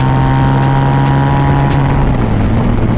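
A Harley-Davidson V-Rod Muscle cruiser accelerates hard. Its loud, close engine roar holds a strong tone that climbs as it pulls, with a brief dip near the end.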